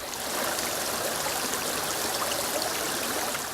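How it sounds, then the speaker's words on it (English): Shallow, narrow Little Campbell River running like a creek, a steady broadband rush of flowing water that holds constant and fairly close throughout, with no voices. "This is called the Little Campbell River, but it's actually, as you can see through here, it's not very wide. It's more like a creek."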